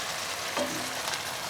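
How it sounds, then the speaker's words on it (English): A smoked ponce (chaudin) fries in a pot, giving a soft, steady sizzle at close range with a faint scrape of stirring partway through. "When you hear it sizzling like that, just add some more water"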